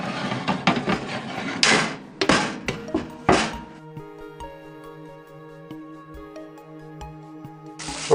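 A grill plate slides into a Nuwave infrared convection air fryer oven and snaps into its jack, giving a cluster of close, hard clunks and knocks in the first few seconds before the sound settles into quieter tones.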